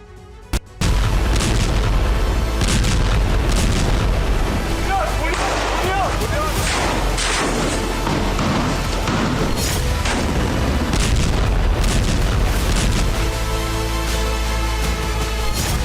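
Heavy booming blasts and rumbling bursts from smoke bomb attacks on a residential area of Beit Lahia, Gaza, during wartime, loud and dense over roughly fifteen seconds, with a jarring onset and other noise mixed in.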